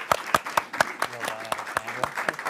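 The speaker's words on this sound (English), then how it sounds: "big round of applause for these two" An audience at a talk-show-style panel event applauds, distinct claps repeating about four times a second over a dense crowd wash, with voices murmuring underneath.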